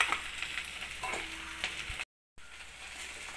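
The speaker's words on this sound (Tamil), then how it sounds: "காஞ்சது நம்ம எடுத்து வச்சுருக்கிற மிளகாத்தூள் அதில் ஆட் பண்ணிடலாம்." Chili powder fries in hot sesame oil in a kadai for radish chutney, giving a soft, steady sizzle close by with a brief silent gap partway through.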